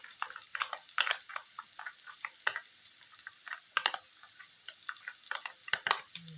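Shallots sautéing with a little water in a pan while fried rice with tempeh sambal is being prepared, giving a steady soft sizzle broken by scattered clicks and scrapes of stirring, close and moderately loud with no talk.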